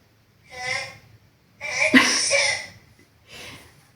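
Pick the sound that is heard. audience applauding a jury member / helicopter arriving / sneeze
sneeze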